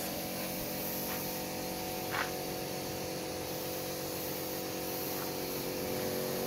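Steady hiss of a spray gun misting paint onto a metal grille, a continuous broadband wash of spray noise holding at even loudness throughout with no pauses, close by and heard alone.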